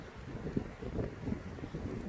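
Strong gusty wind blowing through trees beside a greenhouse in a French garden in spring, a steady broad roar with swelling gusts and rustling, close to the microphone throughout.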